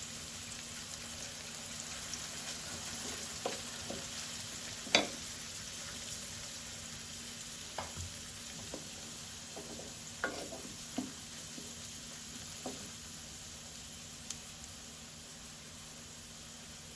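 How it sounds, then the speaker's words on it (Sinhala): Garlic and curry leaves frying in a pan for prawn rice, a faint, steady sizzle broken by occasional soft clicks and scrapes of stirring, with no one speaking. "මේ ටික මේ විදිහට බැදීගෙන එනකොට සුවඳ එනවා."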